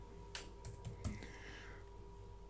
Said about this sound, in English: I just start typing the word individual